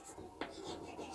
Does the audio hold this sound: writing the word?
yes